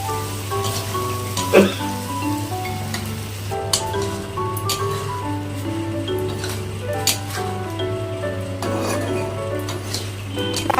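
Water is poured into a pan of frying cauliflower, raising a steady, crackling sizzle like rain on a hot surface, with occasional louder spits over a constant low hum.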